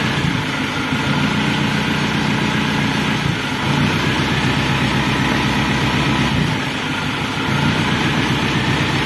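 Isuzu Panther diesel engine idling unevenly, a steady low rumble with a slightly irregular, pulsing beat that runs continuously and close up, with no talking.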